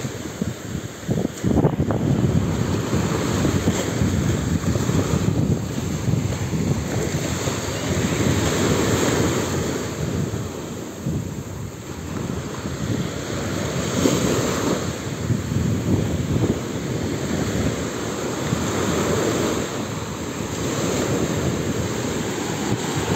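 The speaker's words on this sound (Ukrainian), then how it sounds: "Сидиш і море тебе гладить." Sea waves wash onto a beach, a steady rushing surf with rolling swells and heavy wind buffeting the microphone throughout, loud and close, with no voices.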